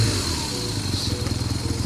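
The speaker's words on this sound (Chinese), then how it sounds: "然后拧一下油门，听着声音啊，" A BMW R nineT motorcycle with a factory Akrapovic exhaust, heard close up with a steady, pulsing engine note, loud and alone, as the throttle is twisted.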